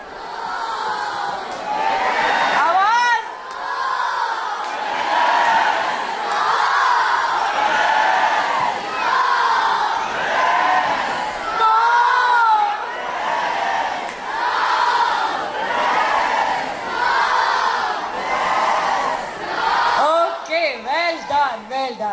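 A room full of children, boys and girls, wail in exaggerated pretend crying while shouting yes and no during a group drama activity, a loud, continuous chorus of sobbing yells lasting throughout.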